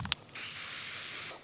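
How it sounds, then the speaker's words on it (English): Aerosol spray paint hissing onto a steel shooting target at an outdoor range, one steady continuous burst of about a second, close and fairly loud, with a brief click before it and no talking. "I gotta spray paint the steel"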